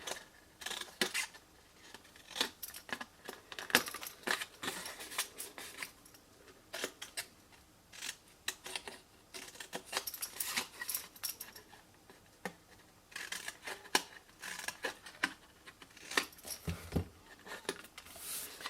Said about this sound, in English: cut straight down the rectangle and wedge into the squares all the way round